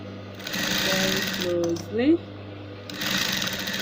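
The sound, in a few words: sewing machine stitching boning onto a corset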